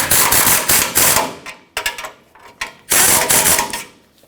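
A ratchet tightens the mounting nuts on a front impact absorber of a 1995-2004 Toyota Tacoma, giving close, rapid clicking bursts in three runs separated by short pauses, with no talking.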